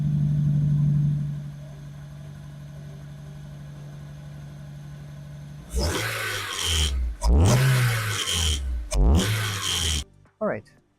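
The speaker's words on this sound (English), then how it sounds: "So I'm going to go ahead and start up the car, and yeah, we'll listen to see what it is before." A Honda S2000 engine is started and revved in a series of rising and falling bursts, following an opening stretch of steady low idle hum, with brief pauses between revs.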